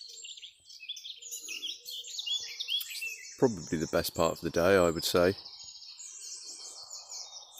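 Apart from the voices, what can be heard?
dawn chorus birdsong in woodland, robins, song thrushes, blackbirds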